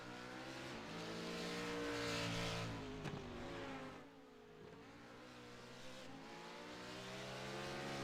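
Race cars of a sports car series, GT2 Fords, LMP2 and Daytona Prototype machines, roar through an opening lap at Auto Club, engines droning loud and steady with a pitch shift partway as a car passes.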